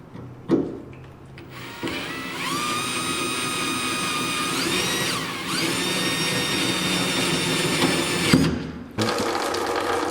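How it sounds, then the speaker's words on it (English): A power drill whines steadily up close, drilling into a Ford F-150 gas tank, its pitch dipping and rising partway through before cutting out briefly and starting again. "Electrical drill in a gas tank."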